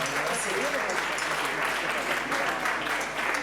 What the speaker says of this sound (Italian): vi meritate un cazzo di applauso, quindi fatevi un cazzo di applauso!